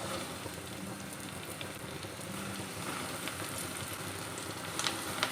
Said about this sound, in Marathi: आता आपण या तळायला सुरुवात करूया